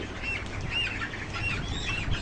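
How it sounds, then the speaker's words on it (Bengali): Broiler chickens cluck and chirp nearby at moderate volume over a low background hum, with soft, repeated calls spread across the short stretch. "আজকে ব্রয়লার মুরগি"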